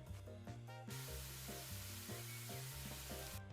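Water sprays onto garden plants in House Flipper as a steady, broad hissing spray over a looping musical backing, running for a few seconds before cutting off.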